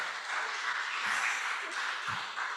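A church congregation applauds during a service, a steady wash of clapping from many hands that runs through the whole moment at a moderate distance.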